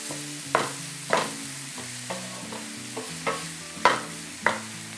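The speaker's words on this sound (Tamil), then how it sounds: "வெங்காயம் வந்து நல்லா குக் ஆகணும், ப்ரௌன் ஆகணும்." Onions cooking in oil until browned, with periodic scraping strokes of a spoon in the pan over a soft background sizzle, each stir a short distinct scrape.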